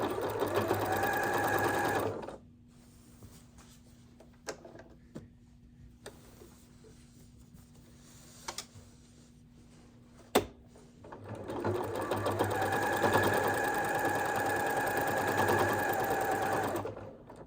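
A sewing machine quilts embellishments onto clothing, whirring loudly and steadily for a couple of seconds, pausing amid faint clicks and handling noises while the fabric is pivoted, then running again at length.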